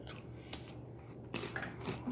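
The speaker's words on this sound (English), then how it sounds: "Just tastes like a little bit of more of a crunchy saltine without the salt." Dry crunching bites into a hard, unsalted saltine-like cracker from a vintage 1998 U.S. cold weather military ration, heard as close, quiet crisp snaps and chewing with no talk.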